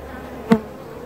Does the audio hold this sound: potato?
no